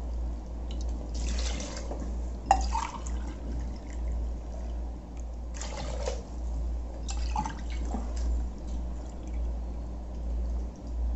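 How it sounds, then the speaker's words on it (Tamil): Water poured from a tumbler into a cooking pot for prawn biryani in a home kitchen, several separate splashing pours over a steady low background hum. "இப்போ வந்து நம்ம தண்ணி ஊற்றிக்கலாம்."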